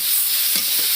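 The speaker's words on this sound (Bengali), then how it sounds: "টমেটো দিয়ে দিলাম।" Fried rice with freshly added tomatoes sizzling hard in a pan, a loud continuous hiss with a couple of soft stirring scrapes near the end.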